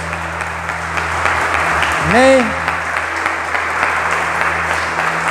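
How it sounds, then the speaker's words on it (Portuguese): A church congregation claps for the Lord at a pastor's urging, giving a steady wash of applause under a low hum while a voice calls out briefly partway through. "Aplauda o Senhor, então aplauda forte"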